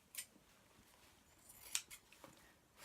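Scissors snip through fleece while trimming a bag flap at a sewing machine: a few quiet, sharp cuts, one near the start and a clearer one about two-thirds through, over a soft room background.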